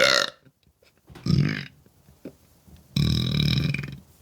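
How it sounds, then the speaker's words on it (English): Burps after drinking La Croix sparkling water, three separate deep belches heard up close, the last one long and loud, with short quiet gaps between them. "used one of my natural burps and held it in."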